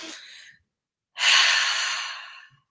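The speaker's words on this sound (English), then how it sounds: "So breathe in" A person takes a long, audible breath in, preceded by the tail of an earlier exhale; close, soft and airy, with no talking.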